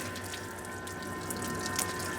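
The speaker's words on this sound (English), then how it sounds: "that's the grey water now starting to come through" Grey water draining from a motorhome's holding tank at a service point, a steady rushing, splashing flow that runs continuously at close range with a slight rise near the end, no voices.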